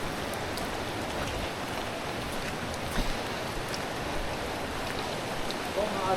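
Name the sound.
continuous rain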